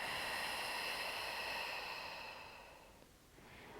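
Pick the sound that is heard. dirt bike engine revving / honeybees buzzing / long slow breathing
long slow breathing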